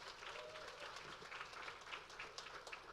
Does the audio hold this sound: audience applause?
yes